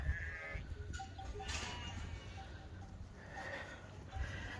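Sheep bleat in a farm field, alongside young mastiff puppies, with several short calls scattered at a distance over a soft background.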